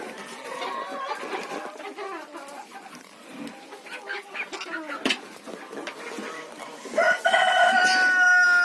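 Bantam hens cluck in a chicken coop while eggs are gathered, with clucking and calls throughout and a louder, sustained call rising near the end.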